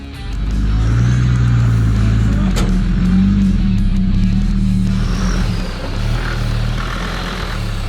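Short-wheelbase Land Rover Defender 4x4 driving off-road on a track, its engine rumbling loud and close with a steady low drone that swells slightly as it moves.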